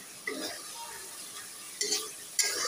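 Spice masala for a meat curry is sautéed in a pan. A soft, low sizzle is broken by three sharper spatula scrapes against the pan.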